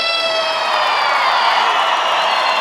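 A large audience in Eskişehir applauds and cheers after a singer's performance at the Turkvision 2013 song contest, a dense, steady roar of clapping and voices that fills the whole stretch without a break.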